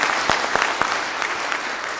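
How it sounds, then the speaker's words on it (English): Audience clapping at an annual general meeting in a Nairobi hotel hall, a brief burst of many hands with a few crisp, close individual claps standing out, no talk over it. "MD deserves a better clap."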